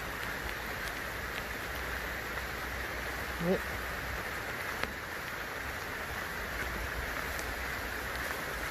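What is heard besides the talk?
rain falling in a mountain forest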